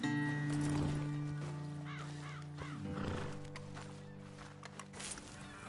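Horses in the Red Dead Redemption 2 video game give a faint neigh or two over soft outdoor ambience, with light hoof shuffles in the background.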